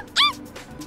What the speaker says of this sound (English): Oh, there was a cute doggy too.